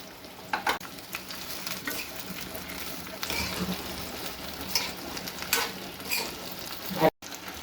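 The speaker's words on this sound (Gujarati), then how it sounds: "આપણે સૌ પહેલા ભીંડાને એક ઓછું તેલ રેડી અને ધીમા તાપે આપણે ભીંડાને ફ્રાય કરી લઈશું" Okra frying in a little oil over low heat, a soft, steady sizzle with occasional scraping stirs and light clinks across several seconds.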